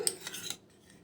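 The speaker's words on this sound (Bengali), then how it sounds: "দই দিচ্ছি আমি তিন টেবিল চামচ" A spoon clinks and scrapes against a glass or bowl while curd is added to bael fruit sherbet, a few quick bright taps close by, then quiet.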